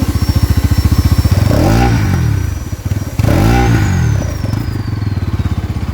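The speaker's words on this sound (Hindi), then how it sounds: "देख रहे हो कितना जबरदस्त साउंड है इस बाइक का" A 2026 Bajaj Pulsar NS200 motorcycle engine idles with a steady thumping beat, then revs up loudly twice in rising and falling surges before settling back to a rhythmic idle, close by.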